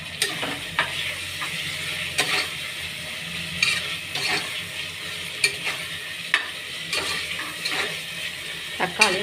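Chopped tomatoes and green chilies sauté in a pan for mutton biryani, with a steady sizzle broken by repeated scraping stirs of a spoon against the pan.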